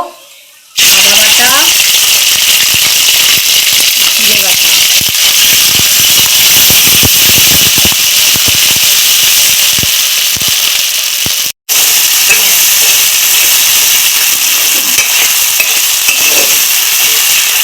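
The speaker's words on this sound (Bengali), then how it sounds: "আদা আর জিরে কষানো হচ্ছে" Ginger and cumin fry in a pan with a steady, loud hiss and sizzle from close by, broken once by a very short gap.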